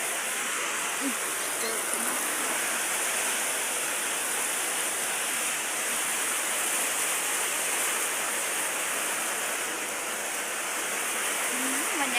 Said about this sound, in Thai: ฝนตกแล้วจ้า